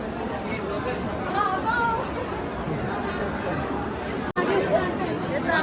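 Steady hubbub of many pilgrims chattering on the Chandrabhaga riverbank at Pandharpur, a dense, constant crowd murmur with a nearby voice talking over it.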